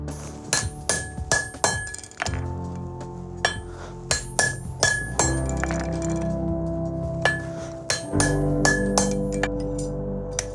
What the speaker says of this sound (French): C'est le carillon du marteau qui va donner l'ordre au frappeur et ensuite au rabatteur